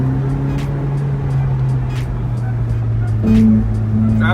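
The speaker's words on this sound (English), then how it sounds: "Driving on the Vegas Strip in a 458 Italia." A Ferrari 458 Italia cruises slowly along the Las Vegas Strip, its engine holding a steady low hum close by, with a brief swell in tone near the end.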